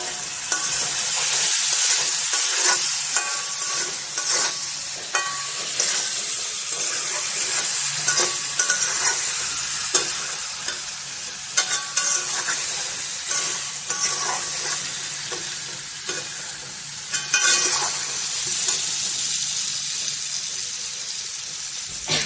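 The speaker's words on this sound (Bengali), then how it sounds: "এবার আমি আলু ভাজা দিয়ে দেবো। আলুটা দিয়ে আমি আরেকটু কষে নেব।" Fried potatoes are stirred through oily chicken curry masala in a hot pan, giving a continuous loud sizzle broken by scraping stirs and clatters throughout, with no talking.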